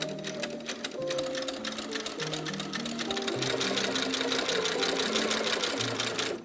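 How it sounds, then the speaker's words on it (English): A sewing machine runs steadily, topstitching seams on corset fabric with white thread in a quick, even mechanical rhythm that carries on without pause, close and moderately loud, with no talking. "I will top stitch the seams, and I'm gonna do it with white overall"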